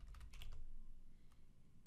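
Keys on a computer keyboard tapped in a short burst of quick clicks as an abbreviation is typed, then a pause and one last keystroke near the end, close and fairly quiet with no talking.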